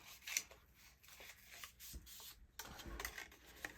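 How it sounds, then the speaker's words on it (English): Paper pop-up card being folded by hand, soft crisp rustles and creases coming in short bursts, quiet and close. "And we're going to fold right here towards us"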